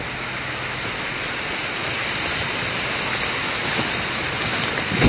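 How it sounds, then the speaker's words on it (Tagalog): Steady, dense rainfall pours down close by, a constant broadband hiss with no voices, swelling slightly toward the end. "Malakas naman yung ulan."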